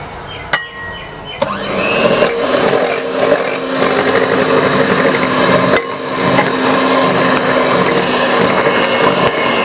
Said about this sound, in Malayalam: മുട്ടയുടെ മഞ്ഞയും വാനില എസൻസും കൂടിയിട്ട് മിക്സിയിൽ നന്നായിട്ട് അടിച്ചെടുക്കുക